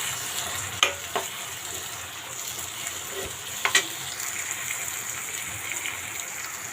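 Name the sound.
onions and tomato pieces frying and being stirred in a pan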